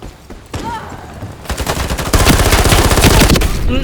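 Rapid automatic gunfire in the shooter game Ironsight, with sparse shots at first that build into a loud, dense burst of continuous fire.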